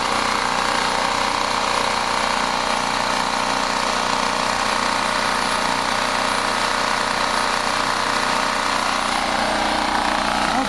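A recently repaired generator engine runs up close with its valves shut off, a loud, steady, rattling roar that holds constant for the whole stretch without pauses or speech.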